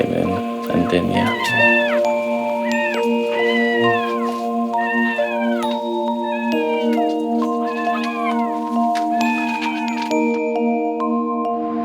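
A young kitten meows repeatedly in a series of short, high, rising-falling cries, close and clear, with a faint background tone and a little talk at the start.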